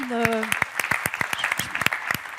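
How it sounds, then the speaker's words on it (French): An audience applauds at an awards evening. A voice is heard briefly at the start, then a steady, fairly close patter of many hands clapping carries on to the end. "on peut vous applaudir pour ça"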